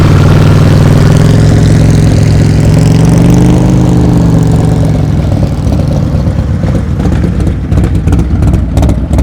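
A motorcycle engine holds a steady raised throttle during slow-speed riding practice, a loud close continuous drone with a slight wavering pitch that grows rougher and more sputtering toward the end.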